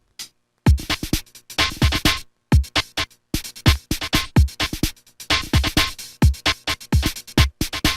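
A PS1 rhythm game song at its opening stage, a single sample looping over and over: a choppy, repeating phrase of short bursts separated by brief gaps, with nothing layered on top.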